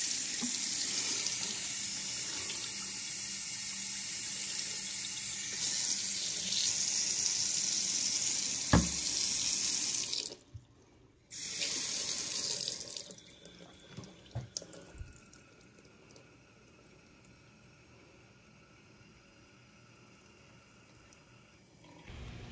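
Tap water runs steadily into a container already holding a tablespoon of dishwashing soap, a loud continuous gushing rush for about ten seconds, then a short second burst and quieter drips and handling clatter.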